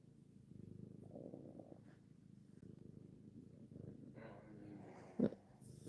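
A cat purrs softly up close, a low steady rumbling that rises and falls with its breathing, quiet and continuous with a brief sharp knock near the end.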